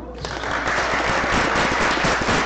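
Audience in a church at an evangelistic event breaks into dense, continuous applause, loud and close, holding steady throughout with many hands clapping together.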